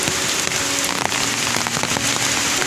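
Steady, dense rain pours down near a tall waterfall at the Marleshwar pilgrimage site, a continuous close hiss with scattered drop patters throughout and no voices.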